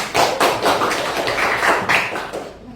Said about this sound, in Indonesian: Coba beri tepuk tangan untuk Angga.